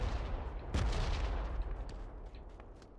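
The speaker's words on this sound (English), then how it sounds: "We're getting shot from far southeast." Gunfire in PUBG on the Karakin map, heard as one muffled distant shot followed by a low rumbling tail under dull game ambience.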